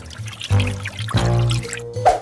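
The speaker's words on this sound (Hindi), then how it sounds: "अब चीनी, पानी, सब कुछ अच्छे से मिलाना है" Water and sugar poured into a pot for making candy, a few separate splashing pours and trickles with short gaps between them, close and fairly loud.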